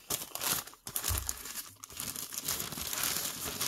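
Plastic foil from an Advent calendar door crinkling and rustling up close, irregular crackling bursts as it is handled and scrunched.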